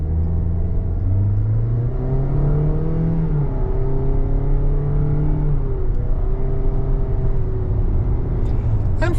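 A 2025 Toyota Corolla Cross L engine revving up as it accelerates, pitch climbing through the gears in a steady rising drone, heard from inside the car.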